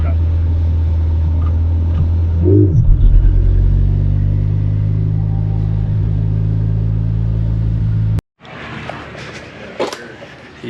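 A manual Honda Civic's engine rumbles loudly up close, swelling as it revs and launches hard, then the sound abruptly cuts to rougher road and wind noise.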